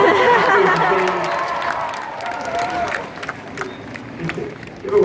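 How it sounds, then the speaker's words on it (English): A comedy-show crowd bursts into cheering and applause, loud at first and then tapering into scattered claps and whoops, with a voice speaking over the fading noise. "Let's give a cheer for Southern hospitality"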